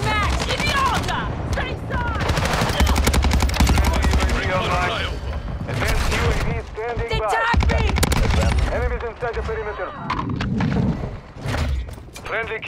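Cronen Squall rifle fire in Modern Warfare 2: rapid bursts of gunshots crackle over a dense, busy mix, with voices talking throughout.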